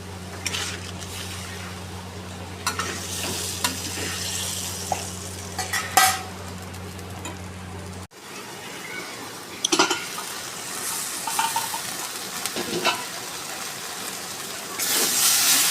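Spice masala for a prawn and soybean dish fries in oil with a continuous sizzle while a utensil repeatedly scrapes and knocks against the pan. A steady hum runs through the first half and the frying gets louder near the end.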